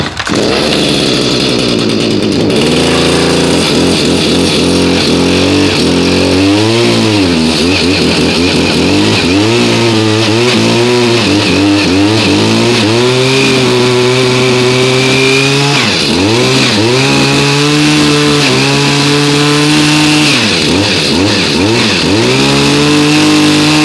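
A small lawn-care engine, left five months without fuel stabilizer, runs after a pull start, loud and close, its buzzing pitch rising and falling repeatedly as the throttle is worked, with no talk.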